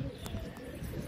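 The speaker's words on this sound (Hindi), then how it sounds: "ऐसे पहला कबूतर आके बैठ गया" Pigeons, one dark, settling one after another on a perch in the morning, with soft low cooing and flutters of wings under a steady murky background noise.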